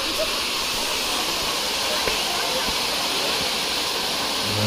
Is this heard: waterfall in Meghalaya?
yes